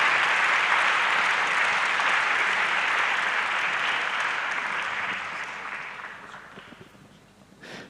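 An audience at a youth forum applauds in a dense, steady burst of clapping that holds strong for several seconds before thinning out and fading toward the end.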